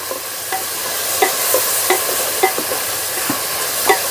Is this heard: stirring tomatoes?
yes